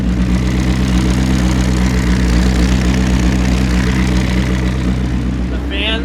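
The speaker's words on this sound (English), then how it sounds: "I'm just gonna put the microphone over here so you can hear the engine a little bit." A McLaren sports car engine idles loudly close by, with a deep, even rumble that holds constant throughout.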